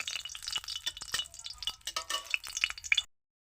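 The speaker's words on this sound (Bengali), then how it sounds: "নাড়িয়ে চড়িয়ে সুন্দর করে ভেজে নেব" Three dried red chillies being stirred and fried in a little oil, soft crackling sizzle with quick clinking stirs at close range, stopping abruptly into silence.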